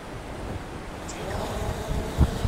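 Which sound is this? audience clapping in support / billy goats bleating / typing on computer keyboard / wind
wind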